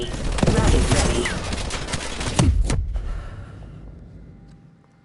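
Heavy cannon fire from a video game's main gun booms in a dense, loud burst, with repeated blasts through the first three seconds before dropping away into a quieter rumbling tail.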